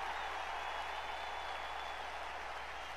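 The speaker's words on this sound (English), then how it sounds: "MSW fans cheering Perch" A wrestling event crowd cheers and applauds steadily in the arena, a dense and continuous wash of clapping and voices that sounds somewhat distant and does not swell or fade.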